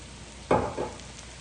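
Mushrooms dropped into a pan of hot olive oil, giving a sudden loud sizzle followed by a second smaller burst, then a quieter crackle, close and without talk.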